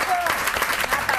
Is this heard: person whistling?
no